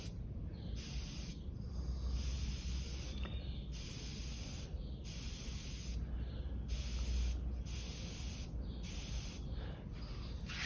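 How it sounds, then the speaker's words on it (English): A Harder & Steenbeck Evolution airbrush sprays paint in a series of short, close hissing bursts, switching on and off in a rough rhythm over a low background rumble. "Just writing your name with your airbrush, adjusting the needle nut to restrict the amount of travel that your needle has"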